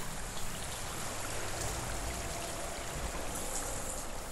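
Flowing water in the video game Hellblade: Senua's Sacrifice makes a steady, dense rushing and trickling, like a nearby stream, continuous and even in level with no voices.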